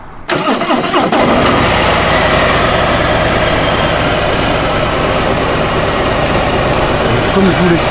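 A 2021 Harley-Davidson Street Glide Special cranks and fires up on its stock exhaust with the valves closed. It catches within about a second and settles into a loud, steady, rumbling run up close.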